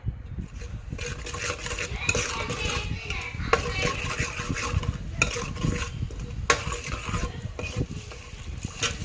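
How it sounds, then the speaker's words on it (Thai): Thai curry paste is stir-fried with thick coconut cream in a pot, producing steady scraping and stirring strokes with a sizzling undertone, close and fairly loud. "แล้วก็นำเครื่องแกงลงไปคั่วค่ะ คั่วกับกะทินะคะ"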